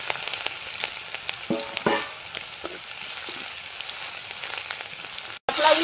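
Crushed garlic, black cumin and green chili fry in hot oil with a steady close crackling sizzle, broken by a few stirring scrapes and pops, ending in a brief cut and a louder burst of frying.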